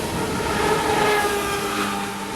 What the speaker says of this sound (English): Here comes the engine so you can catch it all the way back.